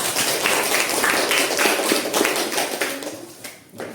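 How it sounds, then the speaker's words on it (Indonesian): A class claps for a student group after its presentation, a burst of fairly close clapping that tapers off near the end. "Tepuk tangan untuk kelompok 2"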